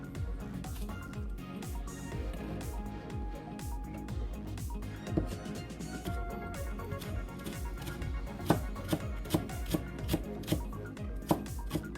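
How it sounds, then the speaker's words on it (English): A knife chops ginger on a board in quick, regular strokes, near and continuous, with a few sharper, harder hits toward the end. "Okay, you cut some ginger."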